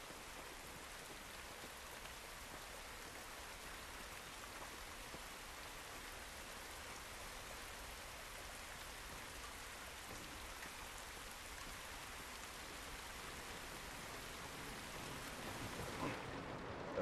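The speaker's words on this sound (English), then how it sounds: "Let's just take a moment to appreciate the sound of the rain on the metal." Rain drums on metal in the video game The Last of Us Remastered. It is a dense, even hiss of drops that holds steady and moderately loud throughout, with no voices.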